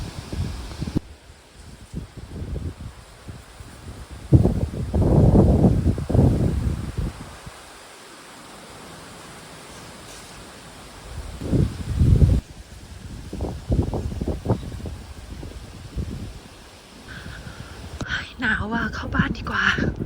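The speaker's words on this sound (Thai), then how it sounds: "ลมก็แรงแรง" Strong, cold wind on a rainy afternoon in the English countryside comes in rough, low, rumbling gusts that buffet the microphone, easing off between bursts, with a quiet voice now and then.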